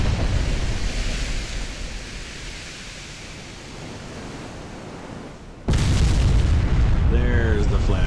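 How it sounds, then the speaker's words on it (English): A battleship flash fire explosion in Ultimate Admiral: Dreadnoughts, a sudden loud blast that cuts in abruptly over a steady roaring, surf-like background rumble and stays at full force to the end. "There's the flash fire."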